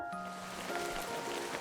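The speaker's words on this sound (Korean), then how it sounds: "하늘에서 비가 오고 있네요." Steady rain falling, a soft continuous hiss of drops at moderate level with no talk over it.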